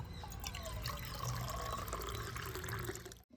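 Plain water being poured into a thick rice-flour batter for Bengali pitha, a steady splashing trickle running continuously for about three seconds before stopping abruptly, close and fairly loud with no voices.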